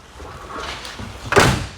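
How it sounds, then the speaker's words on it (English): The door of a hot rod car shuts with a single solid slam near the end, preceded by a soft rustle and movement close by. "And how the door closes is crazy."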